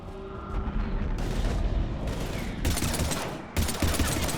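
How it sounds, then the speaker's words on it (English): Heavy gunfire in a Mass Effect 3 combat scene, rapid automatic bursts crackling loudly in waves, with brief pauses between volleys and no clear talk. "We're taking heavy fire."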